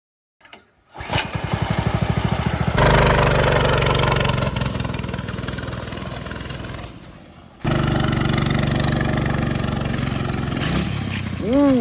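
A homemade, janky go-kart engine sputters to life, then runs loud and close around a yard, droning steadily with a brief dip before revving back up.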